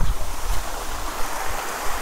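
Water spills down a small stepped waterfall near Kothayar in Kanyakumari, a constant close rushing wash with a gusty, noisy texture.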